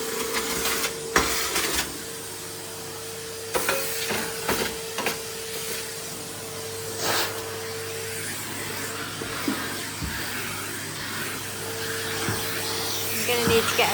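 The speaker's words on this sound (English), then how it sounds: "Hoping I'm not going to block the vacuum cleaner with this." A vacuum cleaner runs steadily through a conservatory tidy-up, its constant motor hum and hiss carrying under scattered knocks and clatters of debris, with a faint voice now and then.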